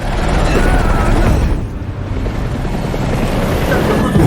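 A loud, steady helicopter rotor roar fills the whole clip, with a low rumbling throb and a brief dip midway before swelling again, from a war film.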